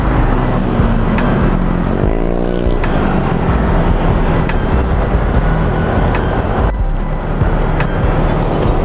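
Heavy road traffic roars nonstop along Commonwealth Avenue, a loud, dense wash of passing cars and motorcycles heard up close, with a brief horn-like tone partway through.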